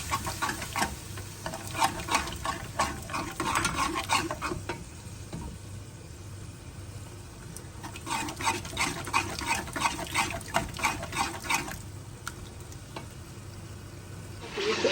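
Ginger, garlic and green chilli paste with black pepper fries in a pan for haleem, a continuous close sizzle with bursts of stirring and scraping coming and going, no voices.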